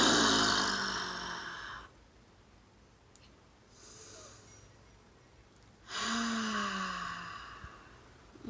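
Deep, exaggerated breathing during a guided relaxation, with long, loud breaths heard up close, separated by a quieter pause before the next long exhale.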